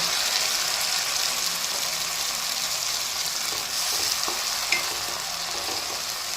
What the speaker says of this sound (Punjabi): ਟਮਾਟਰਾਂ ਦਾ ਪੇਸਟ ਪਾ ਕੇ ਤੜਕੇ ਨੂੰ ਤੁਸੀਂ ਦੁਬਾਰਾ 1 ਮਿੰਟ ਇਹਨੂੰ ਹੋਰ ਪਕਾ ਲੈਣਾ